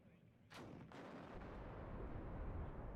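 Video-game battle: a Milan anti-tank missile strikes an M47 tank, a sharp blast followed by a second quick crack, then a low rumbling roar that lingers, with no voices.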